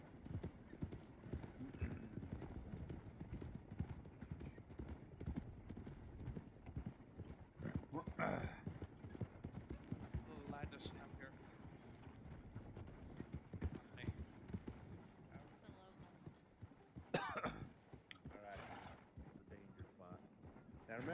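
Horse hooves clip-clopping in the Red Dead roleplay game, a steady run of close, repeated hoof beats with an occasional whinny, heard beneath near-constant talk from players.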